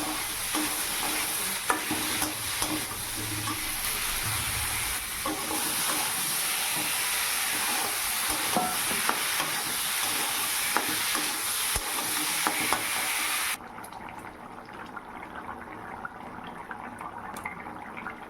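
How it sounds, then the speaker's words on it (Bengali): Potatoes, cauliflower and eggplant stir-fried with salt, turmeric and chili give a loud, continuous sizzle and hiss, broken by repeated stirring scrapes, then drop to a quieter sizzle near the end; no one speaks. "একে একে লবণ হলুদ লঙ্কা সব দিয়ে ভালো করে আলুটা কষিয়ে নিয়ে ফুলকপি আর বেগুনটাও দিয়ে দেবো"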